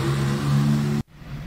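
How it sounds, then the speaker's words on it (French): A classic Porsche 911 S with a 2.2-litre engine drones loudly past at a road rally for vintage cars, then the sound cuts off abruptly into quiet. "pour changer de 911 2 litres, ici c'est une 911 S, donc un 2 litres 2"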